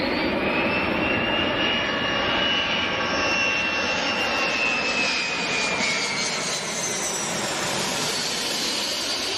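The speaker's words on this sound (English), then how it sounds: "This DC-10 dropping fire retardant while doing an impressive maneuver." A DC-10 airtanker flies low while dropping fire retardant, its jet engines a loud, continuous roar with a slowly shifting high whine, near and unbroken throughout.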